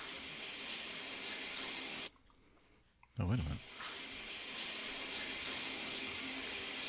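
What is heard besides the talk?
shower running in the bathroom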